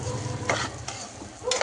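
Broken wheat rava dry-frying in a pan, a soft steady sizzle-like rustle with a few brief scraping stir strokes from a spoon across the metal, close and alone without talk.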